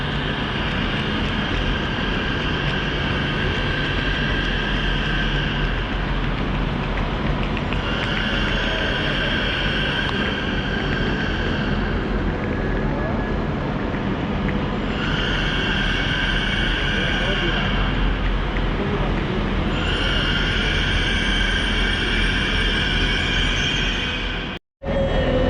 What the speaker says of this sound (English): Here comes our late running train, and it looks like it's a 4-car.